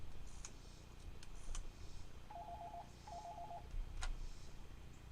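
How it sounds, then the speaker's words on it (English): Faint tones from a field telephone used with a Swedish M37 dialer: two short warbling tone bursts sit over a low hum and handling noise, with a few sharp clicks and knocks around them. "Got dial tone."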